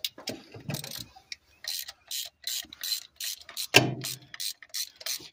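A ratchet wrench clicks in short, repeated bursts while unbolting 5/16 coarse-thread, half-inch-head carburetor bolts on a 1969 Ford Mustang Mach 1 fastback, close and crisp with brief pauses and a louder knock partway through.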